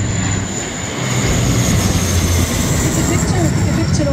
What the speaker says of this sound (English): It's rarely that you could have an airplane so near like this to you.